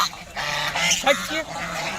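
Several nasal honking calls from domestic geese nearby on a farm, irregular and fairly loud, over a low background murmur.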